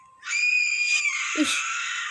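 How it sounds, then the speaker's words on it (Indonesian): A loud scream used as a sound effect in a video story: a single sustained high shriek that rises, holds, then breaks and trails off, with no other sound around it. "Ada yang teriak, guys."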